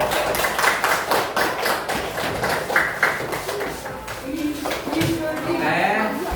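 A classroom audience gives a short round of applause, the claps coming as quick, uneven taps for the first few seconds before fading out as voices start talking.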